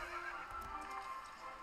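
A horse in the Star Stable video game gives a soft whinny with clip-clopping hooves, faint and brief under quiet game background sound.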